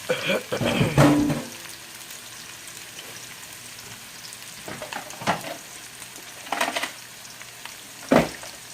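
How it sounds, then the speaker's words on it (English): Chopped onions hit oil preheated on high heat in a pan for carne guisada stew, giving a broad sizzle with a few louder crackling bursts over a low steady hiss, close by and moderately loud. "this is on a high heat so I can heat up the oil. And there are the onions."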